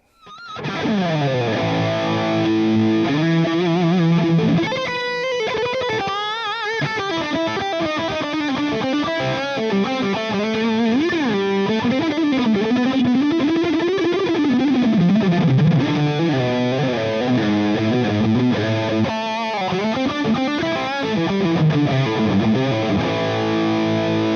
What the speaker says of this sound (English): Switching to the blue channel of this amplifier, so basically the crunch or lead channel of this amplifier